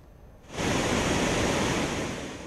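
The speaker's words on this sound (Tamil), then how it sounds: "ஒகேனக்கலில் நீர்வரத்து அதிகரித்துள்ளதால் அருவிகளிலும் வெள்ளம் ஆர்ப்பரித்து கொட்டுகிறது." Hogenakkal waterfall in Tamil Nadu roars under heavy water flow, a dense, loud, unbroken rush that bursts in suddenly after a quiet moment and then holds steady.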